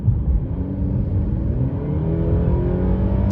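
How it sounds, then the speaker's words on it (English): A 2024 Mercedes-Benz E350 4Matic under full throttle, its engine droning close and loud, the pitch climbing steadily as the car accelerates after a downshift, with a constant low road rumble and no voices. "So I punched it, it waited a little bit, it shifted into 1 gear, and then it finally downshifted"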